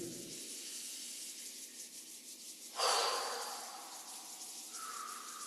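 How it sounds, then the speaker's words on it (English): Palms rubbed briskly together during a qigong warm-up, a soft close swishing hiss followed by a louder breathy exhale that fades, with no speech. "Rub the palms together and breathe."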